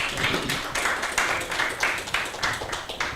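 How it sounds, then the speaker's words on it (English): A forum audience claps steadily, many hands blending into a dense, continuous patter of applause for a few seconds in a hall. "Let's clap."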